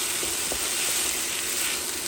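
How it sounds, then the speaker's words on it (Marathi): Goan mackerel fish cutlets fry in a pan, giving a short, steady, close-up sizzle and hiss with no one talking. "आता भाजून घेवया आमी."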